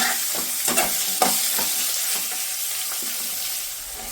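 Onions frying in a pan for a potato palya make a loud, dense close sizzle, with a few scraping stirs early on before the hiss settles to a steady wash.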